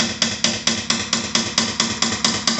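A hammer taps a small punch against a brake caliper slide pin on a 2010-2015 third-generation Toyota Prius, with about a dozen close, evenly spaced metallic strikes that ring briefly after each blow.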